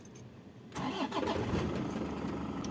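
A Toyota Hi-Ace van engine cranks and catches after a quiet moment, then settles into a steady, fairly loud idle, heard close up with no talking.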